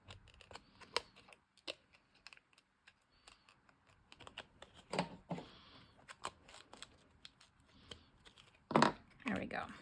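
Paper is torn by hand for a collage, close-up crisp ripping bursts among small rustles and handling clicks, with a person talking quietly at times.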